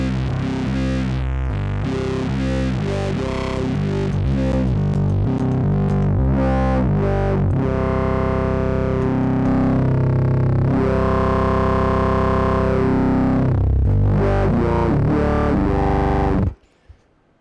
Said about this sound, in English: add yet more distortion and more of the octaver, which I'm using on the FuzzBillion at the moment to provide some more high frequencies